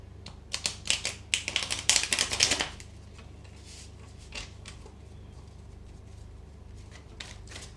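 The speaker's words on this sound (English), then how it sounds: "One more shuffle and then we'll have your spread of cards." Tarot cards are shuffled in quick riffling bursts for a couple of seconds, crisp and close, followed by quieter handling and soft taps.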